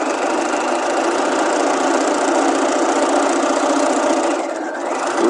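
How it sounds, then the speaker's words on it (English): A sewing machine stay stitches a garment waistband at a half-inch seam allowance, giving a steady, close mechanical whir that runs unbroken for about five seconds. "let's go ahead and stay stitch that at a 1/2 inch, the same as the pattern"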